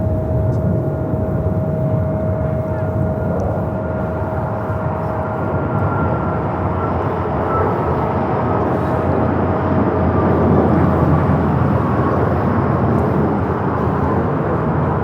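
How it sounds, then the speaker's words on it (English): An Alaska Airlines Boeing 737 MAX 9 bound for Guadalajara takes off at LAX with a loud, steady, broad jet roar and a faint whine that gradually swells, heard from nearby without talk. "1418 taking off to Guadalajara on the MAX 9"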